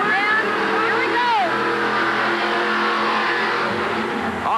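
A Ford-powered fiberglass funny-car-style Jeep races through a mud pit at a 1988 USHRA event in Pittsburgh, its engine revving loud and close with rising and falling pitch, while an announcer talks over it.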